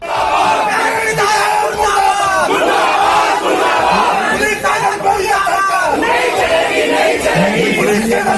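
Congress party protesters in Meerut shouting together in a street protest over an NCERT scam, a loud, dense crowd of raised voices and battle cries that carries on without a break.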